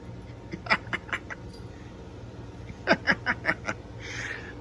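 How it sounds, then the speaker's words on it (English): Pet birds in a cage give two short runs of four or five sharp, honking calls separated by a brief pause, fairly close and clear, followed by a soft rustle at the end. "I just got through feeding these birds and cleaning their cage"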